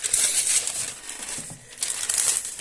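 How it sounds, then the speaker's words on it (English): A knife slices through thin phone book paper, giving close, crisp crinkling and rustling in short bursts, with a brief quieter gap partway through. "It cuts phone book paper."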